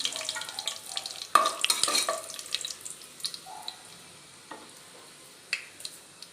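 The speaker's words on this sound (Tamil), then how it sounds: "இந்த டைமில் கருவேப்பிலை போட்டுக்கலாம்." Dried red chillies and curry leaves frying in hot oil for a village-style mutton curry, giving a bursty crackle and sizzle with stirring clinks, loudest early then settling to a quieter simmering hiss with occasional pops, no talking.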